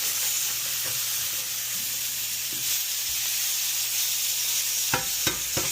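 Smash burger patties pressed flat with onions on a hot griddle, a continuous bright sizzle with a few soft scraping knocks near the end, no talk.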